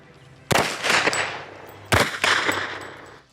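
Automatic rifle gunfire in two sharp bursts, each a loud crack followed by rapid echoing reports, set during a police raid on a drug house.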